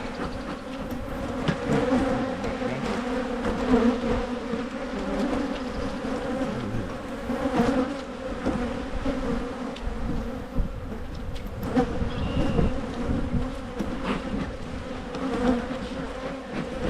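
Honey bees swarm around a hive being smoked, a thick continuous buzz of many wings close by, swelling and easing with brief louder passes near the microphone.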